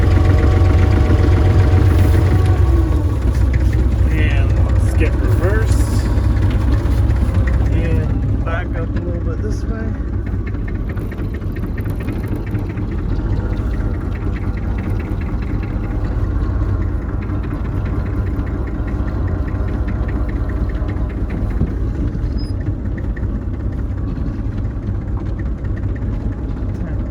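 A 60-year-old diesel tractor fitted with a snow plow runs loudly and steadily throughout at close range, with a deep, rumbling engine note and a voice talking over it.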